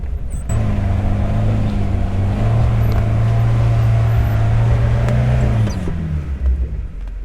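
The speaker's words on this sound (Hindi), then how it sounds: "बारिश पड़ गई है ना तो गाड़ी स्लिप बहुत कर रही है ना।" A safari jeep grinds along a muddy, rain-soaked jungle trail in Corbett, its engine droning steadily and loudly with wheels slipping, the rumble holding for several seconds before easing off near the end.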